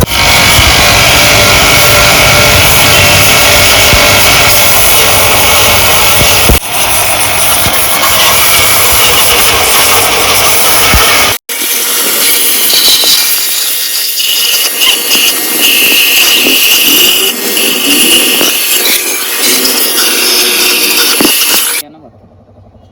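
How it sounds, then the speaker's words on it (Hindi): Pressure washer spraying water over a BMW X1 engine in a workshop, a loud continuous hiss and roar that cuts out abruptly partway, then resumes with a rougher, uneven spray before stopping near the end. "तो अभी इसको पानी की प्रेशर से हम साफ़ करेंगे।"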